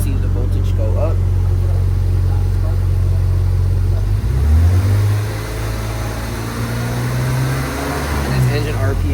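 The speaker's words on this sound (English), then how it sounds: "As we increase the engine RPM, we should see the voltage go up." A car engine idles with a steady low drone, then revs up twice, its pitch climbing and falling back toward idle, heard up close during a MAF and MAP sensor lab test.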